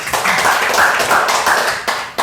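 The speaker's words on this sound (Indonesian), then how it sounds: "tepuk tangan buat ketiga duta IPDN" Podcast audience clapping hands for three IPDN ambassadors, a dense, steady patter of many claps close by that holds for a couple of seconds before tapering off, with no talk over it.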